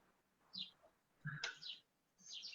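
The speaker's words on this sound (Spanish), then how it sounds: "Escucho un pajarito" A small bird chirps faintly in a few brief, high tweets spaced over a couple of seconds, distant and quiet against low background noise, with no talking.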